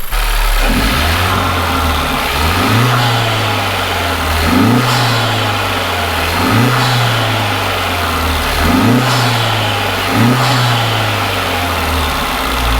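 A modified Honda Civic Type R (FK2) engine revs in a repeating pattern, climbing and falling roughly every one to two seconds over a rough idle, loud and close from the engine bay.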